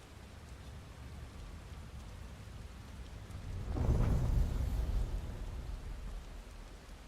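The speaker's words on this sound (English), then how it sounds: "I love the sound of rain." Steady rain in the video game Final Fantasy XVI falls with a low rumble of thunder swelling in the middle, then fading back to the rain's soft patter.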